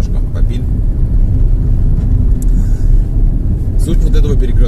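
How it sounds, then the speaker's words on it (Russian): Steady low road rumble and engine drone from inside a car driving along a road, loud and continuous with no breaks, a voice talking over it near the end. "едем по этой же дороге"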